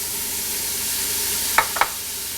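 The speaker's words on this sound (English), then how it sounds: "It's time to saute our bacon. Let's get our leeks in there." Bacon and leeks sautéing in a pan give a loud, steady sizzle, with two sharp clicks of a stirring utensil near the end and no voices.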